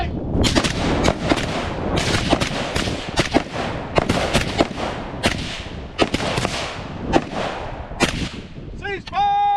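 Rapid rifle shots crack out in quick irregular succession during a shooting-on-the-move drill, loud and close, about a dozen sharp reports over several seconds before a brief metallic rattle at the end.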